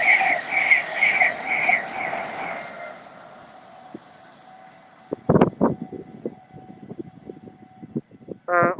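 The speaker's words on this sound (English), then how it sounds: "you see a lot of trains passing through here" A train passes through Hanwell station with a sustained whining tone that fades into a quieter stretch, then a burst of rattling clatter from the wheels and cars, ending on a short tonal blast.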